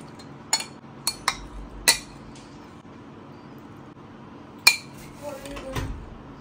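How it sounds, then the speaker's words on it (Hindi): Chia pudding being mixed with a spoon and taken out into a bowl: sharp metallic clinks and taps of cutlery against dishes ring out at irregular intervals over a low, steady background hum. "सारे को अच्छे से मिक्स करके I take it out in अ बोल."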